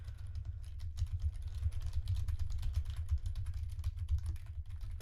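Steady, rapid keystrokes clatter on a computer keyboard resting on a shaky desk, a continuous soft patter of clicks over a low thumping rumble, close and fairly quiet with no talking.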